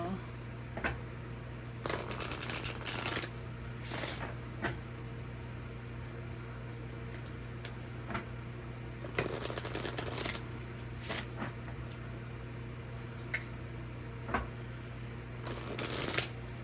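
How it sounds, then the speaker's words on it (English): Oracle cards being shuffled by hand during a tarot-style reading, producing several short bursts of riffling and flicking over a steady low hum, with quiet gaps between the bursts. "We'll pull a telepathy oracle as well."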